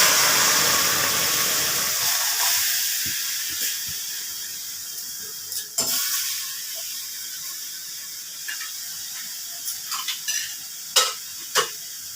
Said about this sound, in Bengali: এবার আমি চালতাগুলো দিয়ে দিই।